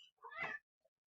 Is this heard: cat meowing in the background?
yes